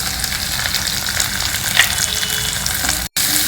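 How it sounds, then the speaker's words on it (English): Cumin seeds, chopped garlic, ginger and onion fry in hot oil, a loud, close, continuous sizzle with faint stirring and a brief cut near the end. "Allow all these to fry well in the oil."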